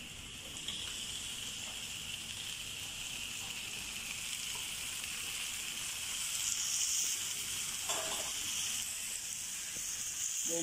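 Onion and tomatoes frying in a pan for egg masala, a steady bright sizzle with soft stirring scrapes that swells toward the end, close and without talk.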